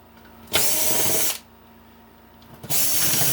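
A power screwdriver backs screws out of a scrapped circuit board in two loud, steady whirring bursts separated by a quiet pause, close to the microphone.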